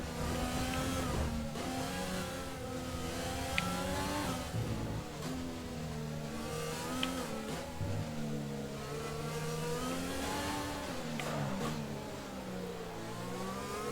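Simulated F1 car engine from the F1 2020 game during the Vietnamese Grand Prix, running with a damaged front wing: a steady high-pitched whine rising and falling through gear shifts, loud and continuous with no talk.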